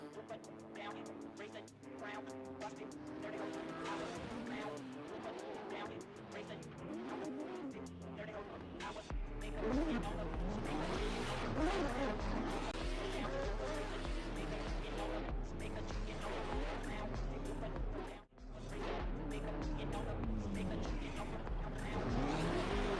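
Drift race cars at a pop-up competition in a racing sim, engines revving and climbing through gears while tires squeal in long sustained skids, loud and continuous with a brief cut near the end.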